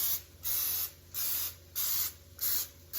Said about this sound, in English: we're gonna spray this muffin tin with non-stick cooking spray